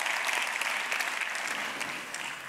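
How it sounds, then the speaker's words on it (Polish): A conference audience claps together for a speaker, a thick, even roar of many hands that holds steady and then fades slightly, with no voices over it. "Duże brawa."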